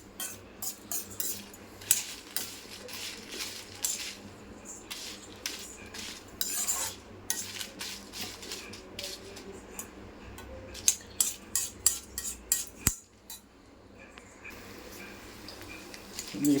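A metal spoon scrapes and taps against a pan while a tempering of urad dal, mustard seeds, fenugreek and dried red chillies fries for a mango chutney, with repeated close clinks in an uneven rhythm over a faint background.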